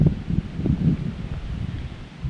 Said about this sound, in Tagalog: Sarap ng hangin, malamig.